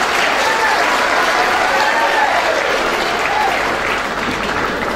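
A large audience at a Tamil public speech claps loudly and continuously, a thick, sustained roar of applause with faint crowd murmur beneath.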